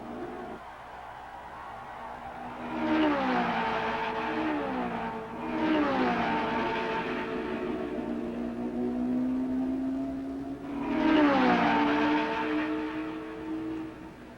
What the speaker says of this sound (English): But Foyt accepts the challenge and pours it on down the backstretch to pass Clark and move into the same lap as the leader.